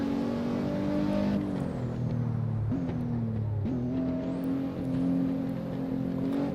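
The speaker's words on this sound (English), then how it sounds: "Maserati coming up, tries to overtake, let him pass" A Maserati race car in the Assetto Corsa racing game roars loudly and steadily close by, its engine pitch shifting through gear changes and rising again as it comes alongside to overtake.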